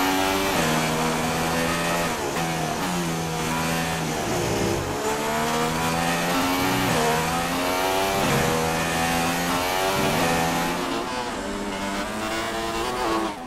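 Race car engines from the F1 2016 video game scream through repeated gear changes, rising and falling in pitch over and over, loud and continuous with no talking.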